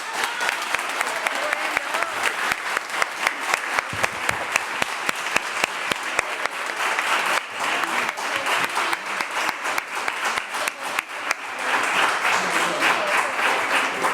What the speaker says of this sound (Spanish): Merecidísimo aplauso tanto a Rafa como a Tasnim